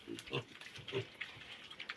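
Faint, short grunting oinks from weaned piglets over two months old, several quick snorts in a loose irregular sequence, quiet and somewhat distant.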